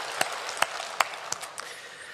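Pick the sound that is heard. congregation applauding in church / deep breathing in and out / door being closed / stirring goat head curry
congregation applauding in church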